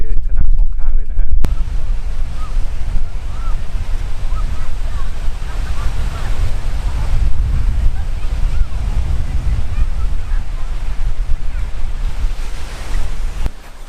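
Ocean surf rolling onto a seaside beach at Williamstown, a steady broad wash of waves mixed with gusty wind buffeting the microphone, continuous and fairly loud throughout.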